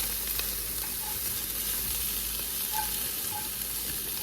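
Vegetables sizzle steadily in a pan as they go in with golden fried tofu on a stovetop, a close, continuous frying hiss with light stirring and no talk.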